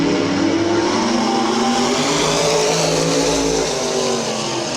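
Modified race cars roar together through a heat race at Midvale Speedway, a loud, continuous engine drone with overlapping revving tones from the pack, close and sustained throughout.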